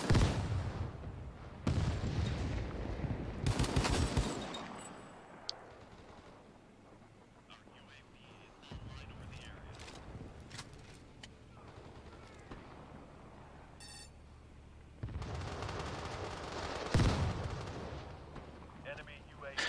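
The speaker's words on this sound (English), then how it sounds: "I'm just waiting here and shooting whoever comes" Gunfire in the shooter World War 3 while using an M417 battle rifle: bursts of loud shots and booming blasts come in clusters, with quieter stretches between them and some faint talk.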